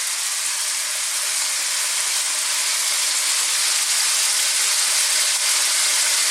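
Sliced garlic and onion sizzle in a hot wok for a pork stir fry, giving a loud, steady, even frying hiss with no voices.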